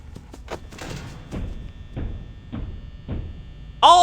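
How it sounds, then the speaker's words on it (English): Heavy muffled thuds and bumps from the video game Five Nights at Freddy's, about half a dozen irregular knocks with a droning hum underneath, then a sudden sharp electronic burst at the end. "I hear thudding. I hear movement."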